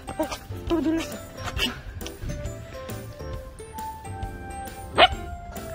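A young puppy barks a few short, sharp yaps while out on one of its first socialization walks, heard amid street noise and with people talking over it.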